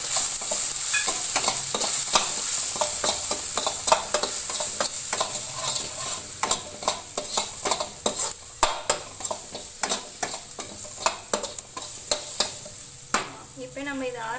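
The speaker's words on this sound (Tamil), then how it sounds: "துளசி போட்டு நல்லா ஃப்ரை பண்ணிக்கோங்க." Basil leaves fried in a pan alongside karpooravalli leaves: a continuous bright sizzle and hiss, with stirring clicks and scrapes that grow more frequent and distinct toward the end, close by, with no speech.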